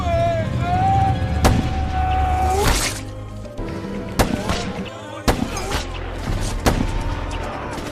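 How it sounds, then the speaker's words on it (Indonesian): Gunfire rings out in a sniper film gunfight, with sharp loud shots spaced a second or so apart over a rumbling score and a narrator's voice. "Setelah baku tembak yang lumayan sengit, Brandon dan Martin berhasil mengalahkan"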